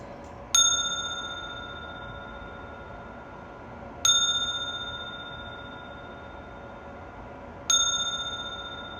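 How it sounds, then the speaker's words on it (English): A hand bell is rung three times at slow, even intervals, each bright ding ringing out clearly and fading over several seconds, with faint room noise beneath. "So let me just ring my bell"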